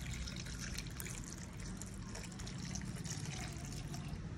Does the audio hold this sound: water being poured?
yes